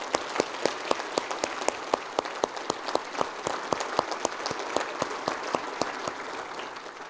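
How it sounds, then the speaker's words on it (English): A single pair of hands claps in a steady, even rhythm, fairly faint over a soft wash of room noise, at a civic State of the City event honouring dignitaries. "Would you please give them a round of applause?"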